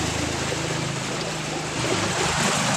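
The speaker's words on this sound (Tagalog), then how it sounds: "Grabing baha talaga." Deep floodwater surges and sloshes steadily, a continuous broad rushing wash of moving water with low churning underneath, close by and loud, no voices.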